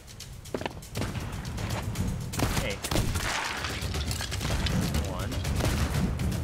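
In the pirate video game Sea of Thieves, a player fires at a shark in dark water. Bursts of gunfire crackle in rapid volleys over churning water and game noise, with players talking over the action.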